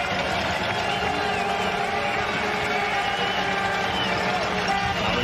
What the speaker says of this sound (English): Crowd noise into it here at McMahon Stadium.